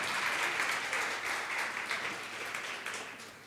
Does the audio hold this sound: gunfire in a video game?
no